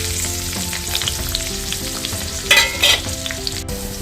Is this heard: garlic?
yes